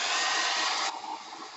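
A hair dryer blows steadily on a painted artwork background, a loud continuous whoosh that drops abruptly to a softer, lower setting about halfway through, with no one talking.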